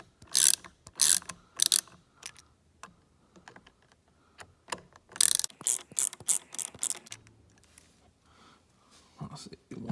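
Ratchet clicking in quick bursts while Allen screws are loosened on a 2018 Dodge Charger Scat Pack, the sharp ratcheting rattles coming in clusters close up with quieter handling noises between them.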